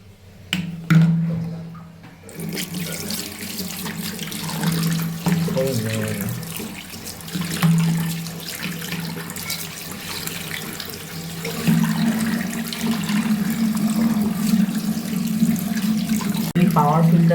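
Running tap water pours and splashes steadily as an aquarium power filter is rinsed under it, with shifting gurgles and a couple of clicks as the device is handled; no speech over the flow.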